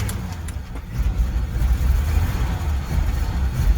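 Old car engine with a mechanical choke running after starting, a steady low rumble that swells slightly and idles unevenly, close and fairly loud.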